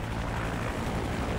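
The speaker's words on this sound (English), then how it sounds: "Take out that helicopter." A helicopter in the video game Call of Duty 4: Modern Warfare thrums with a steady, dense rotor and engine roar that fills the whole moment without pause.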